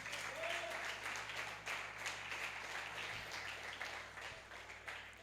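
A church congregation applauds at a Portuguese-language service, sustained clapping from a crowd, moderately distant and steady, tapering slightly toward the end.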